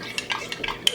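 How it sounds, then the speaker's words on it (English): Spoon stirring custard powder slurry into simmering kheer, Guyanese sweet rice pudding, with quick scraping clinks against the pot, several short strokes close up. "So now I'll be adding the custard powder slurry that I made."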